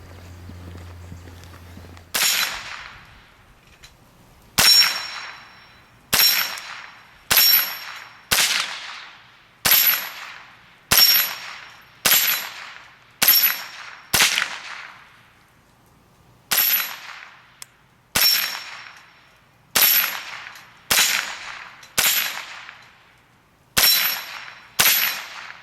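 A Ruger 10/22 takedown .22 rifle fires about sixteen sharp single shots outdoors, each a crisp crack with a short ringing tail, spaced in an uneven rhythm of roughly one per second with brief pauses.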